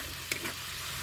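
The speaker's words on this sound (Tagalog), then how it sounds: "igisa natin muna bago lagyan natin ng" Ingredients sautéing in a pan ahead of the tomato sauce: a steady, soft sizzle of frying with one brief stir or clatter near the start, close and fairly quiet.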